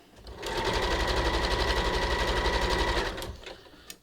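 A sewing machine stitches the butted edges of a swimsuit shelf bra, running in one steady, rapid burst of about two and a half seconds before stopping, close and clear with no voices.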